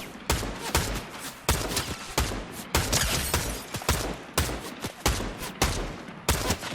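Gunfire crackles through a Fortnite match as a quick string of sharp, loud shots, fired singly and in short bursts, with brief gaps between them.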